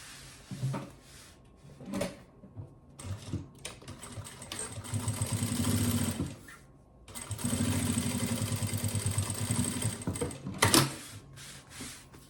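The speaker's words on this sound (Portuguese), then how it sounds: "E vou fazer uma costurinha aqui na bordinha de segurança." A sewing machine runs two long stitching bursts along the safety edge of a baby diaper and wipes bag, with short clicks and handling noises between them and no talking.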